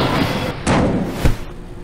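A door opens and closes indoors at a job interview, heard as loud broadband whooshes and heavy thumps, ending in a firm thud.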